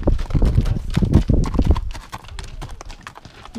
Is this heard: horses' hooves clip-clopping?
yes